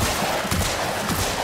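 Rapid gunfire in a video game crackles as a dense, continuous burst of shots, loud and close, with no talk over it.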